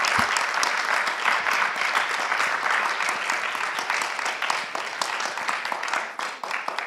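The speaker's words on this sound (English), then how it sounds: "I would like to ask you to give her an applause" Applause from a conference audience at a Women in Rail session, welcoming a prize winner, fills the whole stretch as a dense, sustained round of clapping with no letup.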